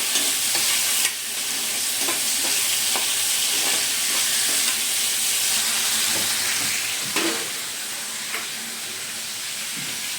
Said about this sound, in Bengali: আমি আমটাকে নুন হলুদে হালকা ভেজে নেবো, সামান্য হালকা ভেজে নেবো।